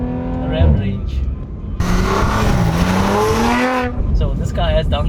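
Audi RS4 with aftermarket downpipes and a ZF 8-speed gearbox, its engine revving hard through quick shifts, loud and close, with a sharp burst of aggressive exhaust roar midway and someone talking throughout.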